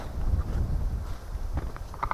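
Strong wind gusting across a campsite in cold, rainy weather, a rough, buffeting roar close to the microphone with brief rustling flutters.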